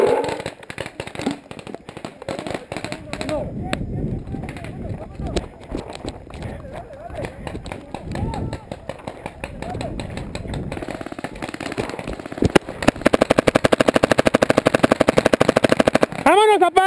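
Paintball markers fire in rapid bursts during an outdoor big-game paintball match, sharp pops stacking into dense volleys that grow heavier toward the end, under excited Spanish shouting from nearby players.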